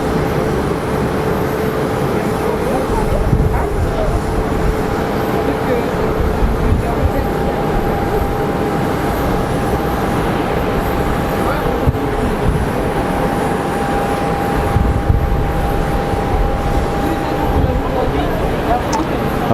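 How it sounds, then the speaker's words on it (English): A jet airliner's clamshell thrust reverser at Geneva Airport gives a steady, broad roar that holds for about twenty seconds, with a faint thin tone running through it. "I do like a clamshell reverser."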